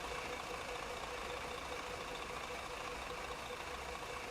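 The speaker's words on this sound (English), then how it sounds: "As you get back to the back, the engine gets louder and louder" A bus engine idles in Euro Truck Simulator 2, a steady broadband rumble with a constant low drone and no talking.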